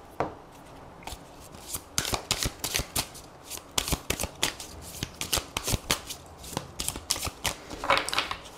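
A tarot deck is shuffled steadily and close up, giving a run of crisp, rapid riffles and card snaps that carry on without any talk.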